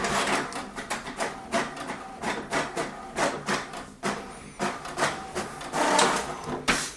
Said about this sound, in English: Make sure you have some paper in your printer because it will print the password.